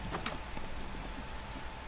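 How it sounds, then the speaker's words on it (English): Steady rain falling in Minecraft, a constant even hiss of drops with no talking over it. "I'm just gonna sleep to get rid of the rain"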